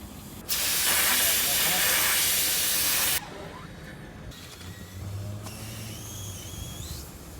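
Compressed air hisses loudly and steadily for a few seconds as it feeds through lines into the airbag suspension of a wrecked 2015 Mustang, then cuts off, followed by fainter hissing and a low hum.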